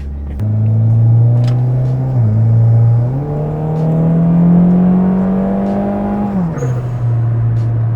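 A turbocharged Honda Jazz engine with a full Mugen build revs up and down repeatedly with a rising turbo spool whir, holding high for a few seconds before dropping back to idle.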